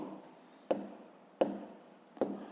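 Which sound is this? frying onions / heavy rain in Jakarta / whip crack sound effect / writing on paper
writing on paper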